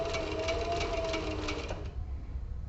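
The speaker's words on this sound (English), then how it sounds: "Now I think I'm sewing fine." Sewing machine stitching leather for a tablet case, a fast steady run of mechanical needle clatter that stops near the end, leaving quiet room noise, close up with no talk.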